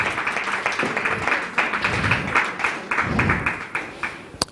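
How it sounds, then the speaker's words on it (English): A conference audience at a Women in Leadership event applauds the speakers they have just heard: a steady patter of many hands clapping, moderately loud and fairly close, with a few louder individual claps standing out and a brief murmur of voices beneath. "Can we give them a round of applause?"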